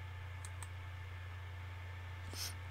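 Two quick, faint computer mouse clicks over a steady electrical hum, followed by a slightly louder click-like tap near the end.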